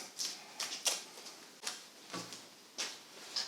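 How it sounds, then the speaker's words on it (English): Tape peeled off a tool rest top bar in short separate rips, close and fairly quiet, coming in irregular pulls with brief pauses between them. "Now that I can take the tape off."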